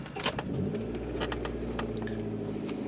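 A red Honda car engine with a P0128 fault code cranks and catches on a cold start, then settles into a low, steady idle close by.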